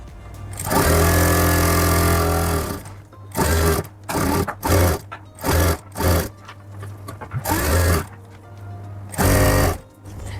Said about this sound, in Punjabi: ਸਾਰਾ ਹੀ ਕੱਪੜਾ ਫੋਲਡ ਕਰਕੇ ਤੁਸੀਂ ਸਲਾਈ ਲਾ ਲੈਣੀ ਹੈ